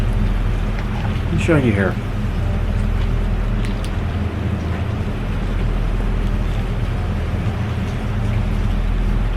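Steady rain with gusting wind outdoors during a tropical storm, a continuous broadband wash that stays loud throughout, while someone speaks briefly over it.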